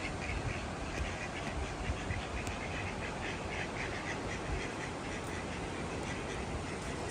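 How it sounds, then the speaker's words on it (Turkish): Ducks quack steadily in Treviso, Italy, over a dense, noisy outdoor background, the calls frequent and overlapping throughout. "Başka ördek yapıyor ses."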